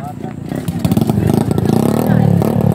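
Motorcycle engine running during a riding practice session, a low steady putter with rising revs up close, under overlapping talk from a nearby person.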